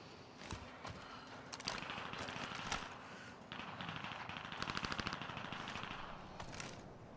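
Rapid automatic gunfire bursts in Call of Duty Caldera, sharp repeated cracks in quick rhythmic strings with scattered single shots, loud and close, mixed with game ambience.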